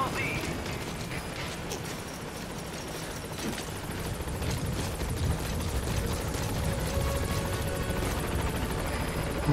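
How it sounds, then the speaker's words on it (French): A helicopter in the video game Metal Gear Solid 5 thrums continuously with dense rotor chop and broadband roar, loud and unbroken throughout, with game effects mixed in. "Il est vachement plus rapide mon hélicoptère."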